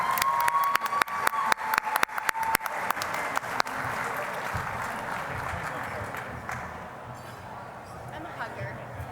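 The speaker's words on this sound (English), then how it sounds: "One more big round of applause for these wonderful volunteers." Audience at a 2007 YDA convention banquet applauding volunteers, a broad steady wash of clapping with a few sharp louder claps early on, gradually thinning and fading toward the end.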